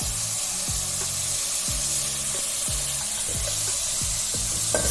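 Green chillies, ginger, curry leaves and tomato sauté in a hot pan, with a steady close sizzle throughout and a rhythmic series of spatula scrapes and stirs, about two per second.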